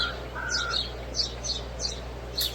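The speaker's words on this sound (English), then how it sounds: "What in God's name is up with that bird?" A bird calls outside in a string of short, repeated chirps at an irregular pace, faint and distant over a steady low hum, with no talking.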